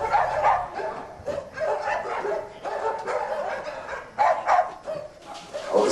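Several dogs at a rescue shelter, one of them blind, barking and yipping in repeated bursts, moderately close, with a few whimpers between barks.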